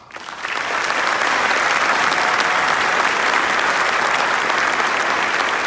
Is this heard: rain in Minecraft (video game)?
no